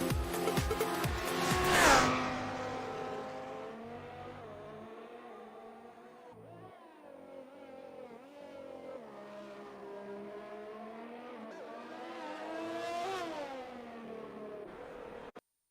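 F1 2020 racing game cars at the Hungary circuit, with a loud engine roar and squeal near the start, then steady overlapping high-pitched engine whine that rises and falls as the cars run side by side, swelling again near the end.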